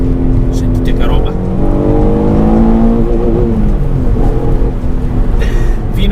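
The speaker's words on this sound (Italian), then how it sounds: "È un motore assolutamente elastico che prende i giri con una velocità pazzesca" A 147 GTA's V6 climbs toward 7000 rpm, its rising harmonic wail sweeping upward and easing off, loud and close, with someone speaking over the engine.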